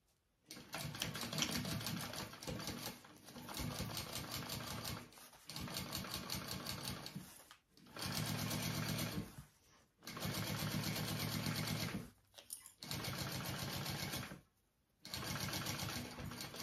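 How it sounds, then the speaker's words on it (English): A sewing machine stitches a seam on a small fold-and-zip petite backpack in repeated close bursts of rapid mechanical chatter, each run lasting a couple of seconds and broken by short pauses, with no voices over it. "And now I'm gonna sew that at a bigger seam allowance."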